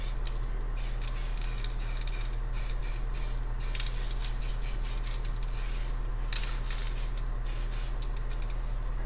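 A spray paint can hisses out a fine misty coat in a run of short, close bursts separated by brief pauses, over a steady low hum.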